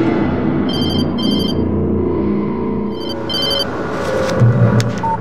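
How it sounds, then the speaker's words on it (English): Old-fashioned telephone rings in the video game Alan Wake: two short bursts of bright trilling bells, a pause, then two more, over a low rumbling ambient game soundtrack. "She was startled by the phone."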